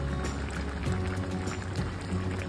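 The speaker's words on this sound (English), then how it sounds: "Add the hot spluttering spices to your bubbling stew." Hot spluttering spices tipped into a bubbling vegetable stew for a Ganesh Chaturthi dish, giving a steady close sizzle and bubbling wash that holds at one level throughout.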